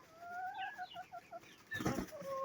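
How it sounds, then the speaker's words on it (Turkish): Chickens and a rooster in a backyard coop cluck in a run of short, close, repeated calls, then a louder burst of squawking and flapping, followed by more clucking. "Horoz."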